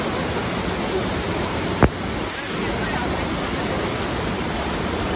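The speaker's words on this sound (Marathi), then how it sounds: "छोटा धबधबा" A small monsoon waterfall at Pahine near Nashik rushes in a steady, dense roar, with wind buffeting the microphone and a single sharp click partway through.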